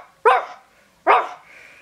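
A person vocally imitating a dog, giving two short, punchy barks about a second apart, close and loud with nothing else around them.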